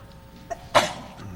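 A single sharp sneeze, fairly close, preceded by a brief small intake of breath, in an otherwise quiet city budget and finance committee meeting room.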